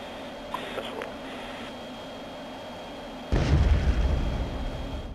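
A bomb explosion during close air support training at Hohenfels, Germany, heard as a sudden distant boom that rolls on as a low rumble after a quiet stretch.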